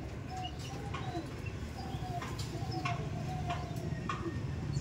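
Giribaz pigeons coo in low, soft calls over a steady outdoor murmur, with a few brief higher chirps scattered through; no one speaks.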